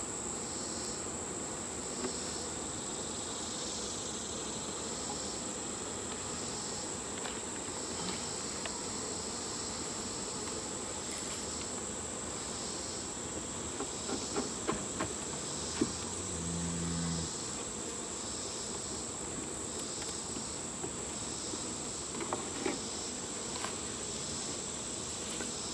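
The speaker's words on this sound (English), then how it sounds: "really got to shake the bees off to make sure you get all those because they're hard to spot" Honey bees around an opened hive that is being fixed with a nuc, a faint continuous buzzing hum with a steady high whine, occasional soft knocks and clicks nearby.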